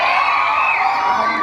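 A pageant audience cheers and whoops loudly in a continuous crowd roar, with children's shouts mixed into the dense noise.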